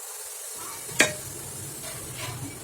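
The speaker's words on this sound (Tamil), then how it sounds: "இப்போ மீடியமான எண்ணெய் காய வச்சுட்டு அதில் போட்டு எடுத்துக்கலாம்" Bread-crumb-coated potato rolls fry in medium-hot oil, giving a steady close sizzle with a brief sharp clink near the start of the frying.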